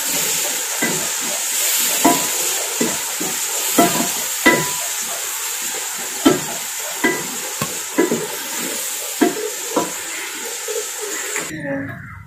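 Onions frying in a pan for a palak and mooli sabzi, sizzling steadily and close by while a spoon scrapes and knocks in a regular rhythm throughout, then stopping abruptly at the end.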